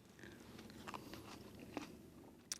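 Crunchy premium table grapes being bitten and chewed, giving a few soft, close crisp crunches over a low steady background, with no talking.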